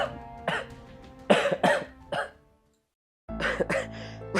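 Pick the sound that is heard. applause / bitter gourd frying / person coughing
person coughing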